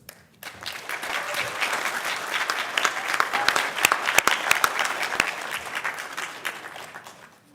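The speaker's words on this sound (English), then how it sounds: "give another round of applause to our employees of the quarter" Sustained applause from a seated audience at a transit agency board meeting, honoring employees of the quarter; dense, steady clapping that swells and holds for several seconds, loud and close, with no voices over it.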